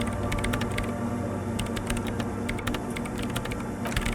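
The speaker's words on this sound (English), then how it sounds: "her hands typing hundreds of commands into the machine" Rapid computer keyboard typing from the game Disco Elysium, a steady stream of clattering keystrokes over a low ambient hum, close and continuous throughout with no talk.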